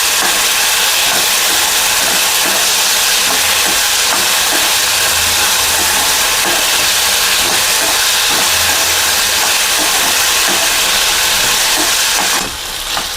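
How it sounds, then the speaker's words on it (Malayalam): Potatoes frying with cumin in a pan while being stirred, a loud continuous hiss of oil filling the whole stretch, easing off briefly near the end, with no voices. "പൊട്ടറ്റോ ചേർത്തിട്ട് നന്നായിട്ട് ഇളക്കി കൊടുക്കുക."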